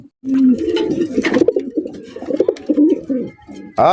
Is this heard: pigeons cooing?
yes